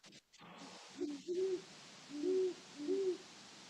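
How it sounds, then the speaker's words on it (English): Owls hooting outdoors at night, inland about ten miles from the coast: four soft, low hoots spaced about a second apart, carrying over a steady background hiss with no voices. "2 owls"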